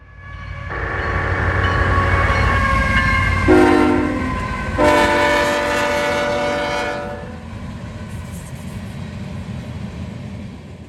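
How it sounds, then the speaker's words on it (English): Freight train hauling steel slab loads and coil empties behind two ET44AC locomotives, with a loud multi-tone horn sounding in several long blasts over a steady rolling rumble and rail clatter, fading slightly as it passes. "2 big ET44 ACs are all this train needs to get this thing to its destination."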